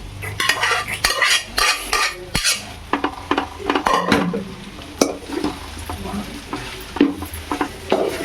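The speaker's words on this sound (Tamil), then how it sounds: "இப்போ நம்ம ரைஸ் போட்டு மிக்ஸ் பண்ணலாம்" Cooked rice is stirred into a salted mixture in a pan, with a spoon scraping and clattering against the metal in an irregular rhythm. A soft sizzle runs underneath the close, fairly loud stirring.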